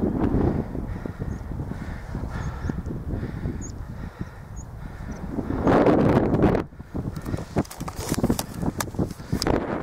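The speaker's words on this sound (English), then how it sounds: "Incredibly windy up here today" Strong gusting wind on the Mendip Hills buffets the microphone with loud rumbling blasts that swell and drop, with a particularly heavy gust midway and no talking.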